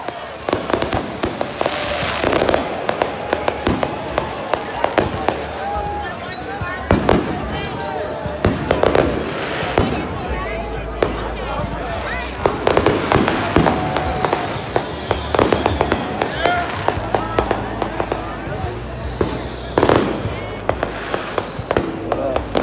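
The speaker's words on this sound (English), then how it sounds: "right, we got some fireworks." Fireworks at a beach gathering during a glow bike event go off in repeated sharp bangs and crackles at irregular intervals, fairly near, while people talk and call out nearby.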